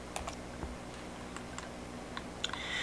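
A value being typed on a computer keyboard, a few quiet, close key clicks spaced irregularly over a faint background hum.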